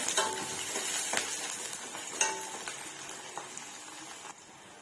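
Onion and a large amount of green chillies frying in a pan for a ponnaganti and moong dal curry, a steady close sizzle with scraping stir strokes and a few utensil clinks, no talk.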